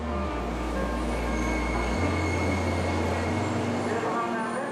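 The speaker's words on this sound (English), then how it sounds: "This is the bullet train for Kyoto." A bullet train to Kyoto rumbles steadily with a smooth, continuous roar and a low engine drone that drops in pitch partway through.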